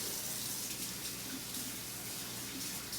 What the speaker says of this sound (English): let's go ahead and wash my hands